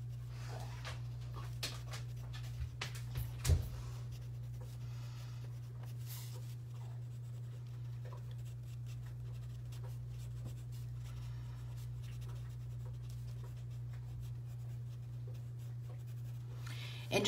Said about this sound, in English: just pushing the pencil into those areas